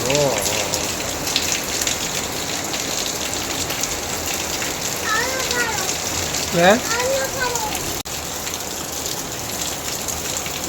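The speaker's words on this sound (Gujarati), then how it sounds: "બહુ જોરદાર વરસાદ સુરતમાં ચાલુ થઈ ગયો છે ભાઈ" Heavy rain pours steadily in Surat during a night-long downpour with flooding, a dense continuous hiss close by; a couple of brief voiced sounds cut through midway.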